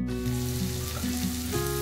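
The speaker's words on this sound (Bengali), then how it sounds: "তো তিতে করলা ভাজা হচ্ছে" Bitter gourd fries in oil in a pan with a dense, steady sizzle, close and fairly loud. Tonal hums and faint background tones sit beneath it, and no one talks.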